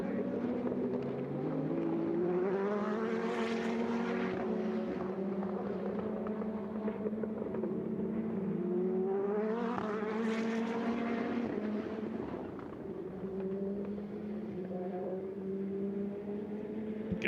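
Onboard an Indy Lights race car at WeatherTech Raceway Laguna Seca, the engine screaming loud and close, rising through gears in two long sweeping climbs and dropping back on lifts, continuous for the whole lap segment.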